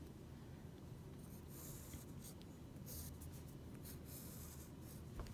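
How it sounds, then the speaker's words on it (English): A pen draws a tape diagram for a math problem, leaving soft, steady scratching strokes on paper that are faint and close over a low background hum. "I'm going to draw my tape diagram because that really helps me visualize"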